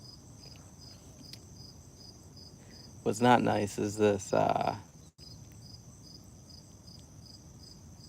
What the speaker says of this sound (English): Crickets are nice.